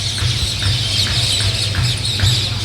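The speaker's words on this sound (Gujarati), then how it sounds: "જો પોપટા કેવા મસ્તીના રાયડું નાખે છે" A flock of parrots calls noisily at the Gadhada bus station in the morning, a loud and constant chorus of squawks with a rhythmic pulse over a low background rumble.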